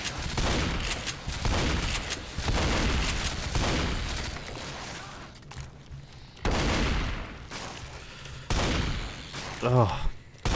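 Gunfire in Half-Life 2 arrives in loud, dense bursts separated by quieter gaps, mixed with game noise, while someone talks over part of it.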